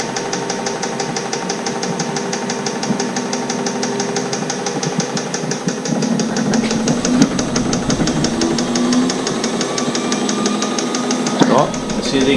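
A military tent heater runs with a steady mechanical engine drone and rapid ticking pulse as its fan winds up, growing slightly louder and rougher about halfway, with brief voices and clatter near the end.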